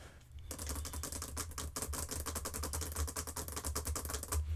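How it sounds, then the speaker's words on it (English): Rapid clicking of a computer keyboard under fast typing, a dense, steady stream of close keystrokes over a low background hum, with no voices. "You hear a bunch of like keyboard pressing and shit in between him talking."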